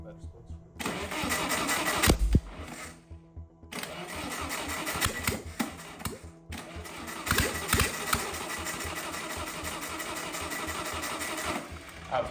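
A 300 HP race engine in an abandoned 1980s supercar cranks and catches in repeated attempts, sputtering, revving unevenly and dying between tries, loud and close with people talking over it.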